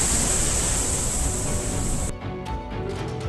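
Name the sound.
flooded Yerala river after heavy rain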